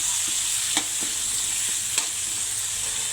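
Spiced rice khichdi fries in a pan with a continuous bright sizzle, while a utensil stirs and scrapes through it in a few soft knocks.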